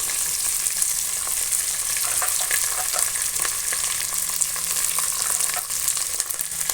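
Sliced onion and potatoes fry in hot oil for palak paneer pulao, giving a dense, steady crackling sizzle with scattered pops and the occasional scrape of stirring, close and continuous.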